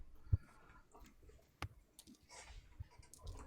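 Computer keyboard keys click in scattered, irregular bursts at close range during a Dungeons and Dragons tabletop game session, with a few louder taps standing out.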